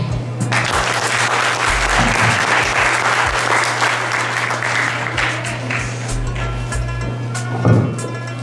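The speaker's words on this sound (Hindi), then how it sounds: "रिजवान शाल के लिए एक और तालियां देनी चाहिए" Sustained audience applause fills a hall after a speech at an Iqbal Day programme, a dense, loud wash of clapping with no talk over it.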